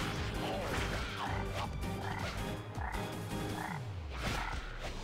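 A frog creature in the mobile RPG Phantom Chaser croaks loudly in repeated deep, gulping calls against battle effects and music, with no talking.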